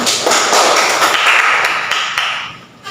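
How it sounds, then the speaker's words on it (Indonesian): Classroom applause from students during a lesson, a dense burst of many hands clapping close by, steady for nearly three seconds before thinning out at the end. "Beri aplaus pada Vicky."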